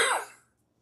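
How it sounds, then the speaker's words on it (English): One short, sharp cough from an adult indoors, loud and close at first and then trailing off quickly into silence. "That's why I'm coughing now"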